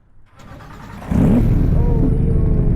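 A Porsche engine cranks and catches after a short quiet lead-in, then settles into a loud, close, rumbling idle.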